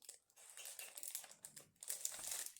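Someone struggles to open tightly sealed plastic packaging, with continuous close crinkling and crackling of the plastic as it is pulled and twisted.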